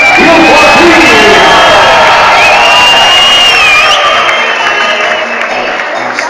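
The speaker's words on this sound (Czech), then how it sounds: "za jejich výkon poprosím kolektiv pořádný aplaus pro tyhle dva" A large crowd at a Downmall event cheers, whoops and applauds loudly for two riders, a dense roar with shouted voices that stays strong before easing off near the end.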